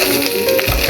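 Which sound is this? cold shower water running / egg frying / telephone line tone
egg frying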